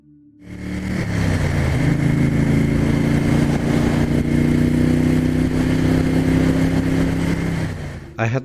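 A Triumph-style 750S motorcycle being ridden, its engine rising from a low start into a loud, sustained drone with steady harmonic tones and wind rush, close up, then easing off near the end.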